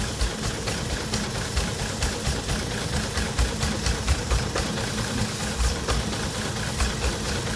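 Toyota Avalon engine idling with a misfire, a continuous close rumble with an uneven, stumbling pulse running through it and no talk over it.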